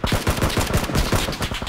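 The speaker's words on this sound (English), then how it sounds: "I'm just gonna shoot him." Rapid automatic gunfire in a first-person shooter video game, a dense burst of loud, evenly spaced shots fired in quick succession with no talking over it.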